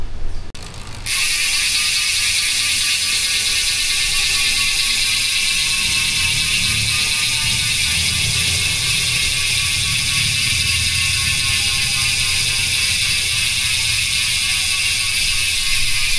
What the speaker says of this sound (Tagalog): so yan yung tunog ng LG-CNC road bike hubs no, kapag naka free wheel